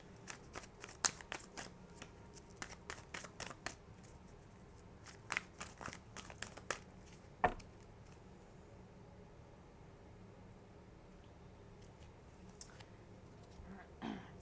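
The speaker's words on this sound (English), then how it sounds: "I am going to pull one more card" Oracle cards from a law of attraction deck being shuffled and handled, a quiet run of crisp, irregular flicks and snaps clustering early, then sparser clicks with near-silent gaps, close and faint.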